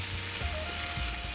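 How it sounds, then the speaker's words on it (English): Skirt steak searing in a pan of butter and olive oil, a loud, dense, continuous sizzle heard close up with no talking. "Now when we add the skirt steak, we should hear that sear, that sizzle."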